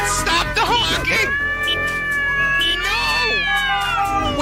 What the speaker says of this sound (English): Fucking cats, stop the honking!